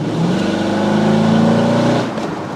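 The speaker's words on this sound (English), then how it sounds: "having a V8 counts for nothing if it doesn't make a good noise" A powerful V8 engine revs loudly, its pitch climbing steadily through a gear before dropping off, rough and throaty.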